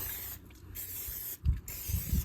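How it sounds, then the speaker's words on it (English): Canola oil sprayed from an aerosol can into a Blackstone pancake mold, two short hissing bursts close to the mic with some low clatter between them. "I will go ahead and spray that with a little bit of canola oil on the inside"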